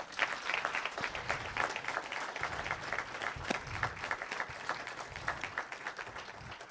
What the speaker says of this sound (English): I think we should give our mayor and the HRDB another round of applause